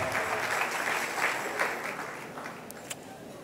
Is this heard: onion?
no